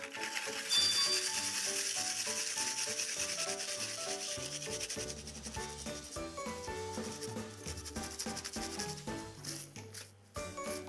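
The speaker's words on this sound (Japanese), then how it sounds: "ここににんにく、生姜をすりおろし" Garlic and ginger are grated for a fried chicken marinade, giving a steady, close rasping scrape that repeats beneath gentle background music.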